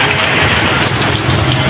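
Heavy rain pours down steadily in a dense, continuous hiss, loud and close, with no voices or other breaks in the sound.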